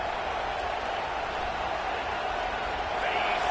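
Stadium crowd noise in a college football video game, Georgia against Alabama, rises as a constant dense roar with no distinct breaks, steady and moderately loud throughout.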